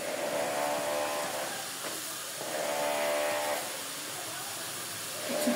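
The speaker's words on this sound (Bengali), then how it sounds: "আমার পানিটা ফুটে উঠছে" Water coming to a boil in a pot for cooking potatoes, producing a steady close hiss that swells and eases, with faint tonal hums in the background.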